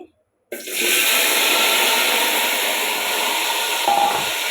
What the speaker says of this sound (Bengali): এখন আমি পেঁয়াজগুলো দিয়ে দিব